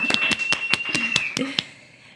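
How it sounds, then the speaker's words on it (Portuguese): A round of applause opening a Portuguese-language podcast: about eight crisp, evenly spaced claps, close and distinct, with a faint steady tone underneath and fading at the end. "Minha gente, uma salva de palmas."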